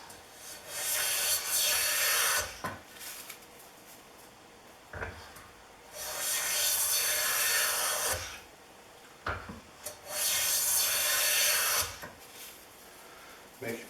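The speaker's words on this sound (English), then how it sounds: "Making some nice shavings." A Chaplin's hand plane with a freshly set iron takes wood shavings in three long, even rasping strokes, each a couple of seconds, close and clear, separated by short knocks and pauses.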